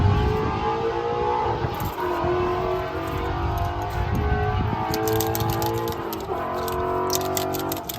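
A loud car with no exhaust passes close by, a harsh, rough engine roar that holds steady and rises in pitch as it revs, drowning out everything else.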